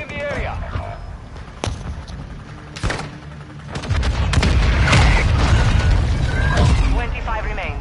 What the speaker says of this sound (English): Hostile mortars strike in the area.